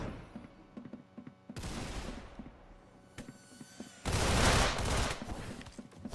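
Glock 18 gunfire in the Roblox game Arsenal: two loud bursts of rapid automatic shots, one short and one longer, separated by quieter clicks, background music and small game sounds.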